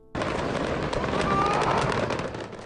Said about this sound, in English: The original fire that set off the fireworks is so spectacular it attracts many people to their windows to watch